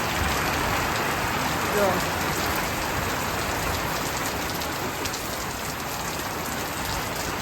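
Steady heavy rain pours down at night in a village, a dense unbroken hiss on surfaces nearby, with a brief word spoken over it.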